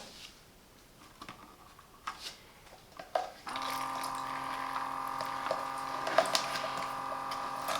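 A Parkside solar irrigation pump switches on after a few faint clicks and knocks, then hums steadily with water flowing and splashing, moderately close, with no talking.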